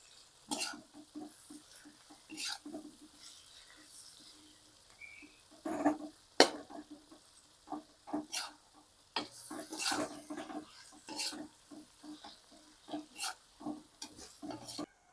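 Vermicelli being stir-fried with salt in a pan: repeated scraping strokes of a spatula against the metal, in an irregular rhythm with sharp clinks, over a faint sizzle, close up and with no talk.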